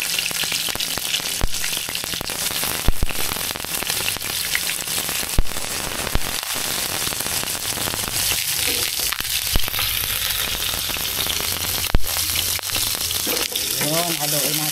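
Garlic and onion frying in a pan for squid adobo (adobong pusit), giving a loud, continuous sizzle with a few sharp clatters and scrapes, close up, with no talking.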